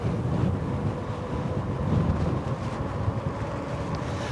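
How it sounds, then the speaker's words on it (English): Steady wind rumbles across the microphone while an eBike rides outdoors on a gusty day. The noise is low, constant and fairly quiet, with no talk. "this is definitely a lot windier than it has been in the last few times I've been out."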